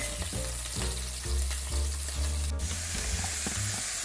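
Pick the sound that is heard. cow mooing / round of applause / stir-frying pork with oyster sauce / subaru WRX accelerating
stir-frying pork with oyster sauce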